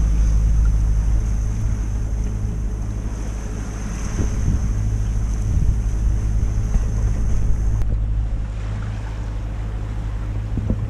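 Strong wind of about 13 knots buffets the microphone on a sailboat off Corsica over a low, constant rumble of water and hull noise on a nearly flat sea, steady throughout with no voices.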